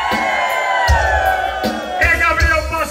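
Crowd at a live bailão concert in Rio Azul shouting and cheering, a dense, loud mass of whoops and yells with bursts of voices over music.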